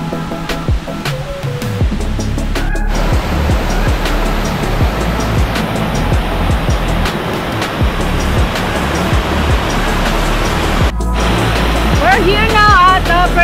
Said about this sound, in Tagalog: Waterfalls of Alcoy One Stream.